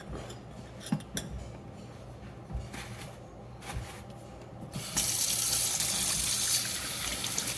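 Hot water runs from a household tap into a sink to soak blue cornhole bags, a steady low splashing that swells into a louder, brighter gush partway through, with no talking.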